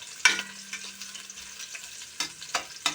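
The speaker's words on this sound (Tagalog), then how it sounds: "So, gisa muna tayo ng bawang." Garlic sautéing in a pan for lugaw, a quiet steady sizzle broken by several sharp spatula scrapes and clacks, close and without talk.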